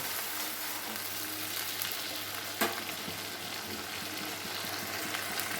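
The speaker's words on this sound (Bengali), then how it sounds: "মশলাটা ভালো কষানো হয়ে গেছে দেখো যেটা আমি টমেটো পিউরি পেস্টটা আর আদা দিয়ে দিয়েছিলাম" Spice paste with tomato puree and ginger frying in oil for a pabda fish curry, a faint steady sizzle with soft stirring scrapes and one brief knock near the middle.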